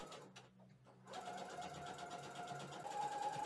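After a quiet second, a domestic sewing machine starts and runs steadily at close range, humming and clattering as it stitches bias tape along a dress neckline.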